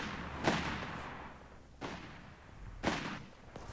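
Machine gun and rifle fire from a World War II battle in Company of Heroes 3 sound as three muffled, rumbling bursts spaced about a second and a half apart, with a low drone underneath and no speech.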